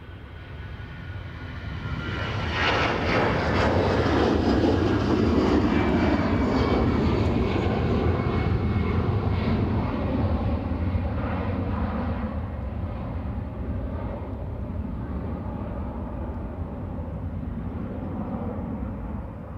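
Airplane passing at Dublin Airport, with a loud, broad engine roar that swells over a few seconds, holds, then slowly fades as it moves away, with no voices.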